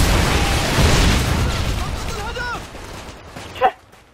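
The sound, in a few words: predator missile explosion in video game Modern Warfare 2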